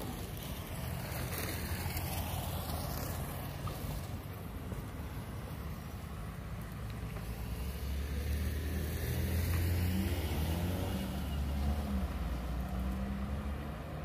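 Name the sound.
buses at Recife bus station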